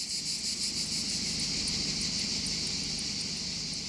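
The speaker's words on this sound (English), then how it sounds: "the hotter it gets, the faster the cicadas sing" Cicadas sing in the summer heat of the Alpilles in Provence, a dense, steady, loud buzzing drone with fast pulsing that runs unbroken throughout, with no voices.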